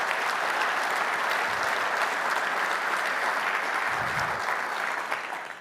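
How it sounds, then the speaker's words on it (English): A room full of people at a logistics officers' keynote lunch applauds for Jay Kalen, a dense, even clapping that stays loud throughout and trails off at the very end. "So please, a round of applause for Jay Kalen."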